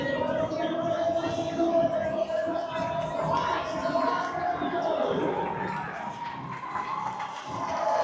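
Large stadium crowd at Wynn Stadium applauding and cheering steadily for an athlete finishing his final reps at an ultimate frisbee event, a dense, continuous roar of many voices at moderate distance.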